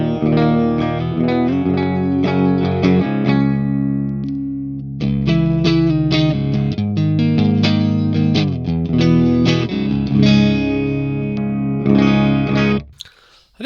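An electric guitar played through the clean channel of the ML Sound Lab Amped Oracle rings out in sustained chords and melodic lines, bright and continuous, with reverb and chorus shimmer and no talking.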